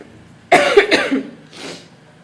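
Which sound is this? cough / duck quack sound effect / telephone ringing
cough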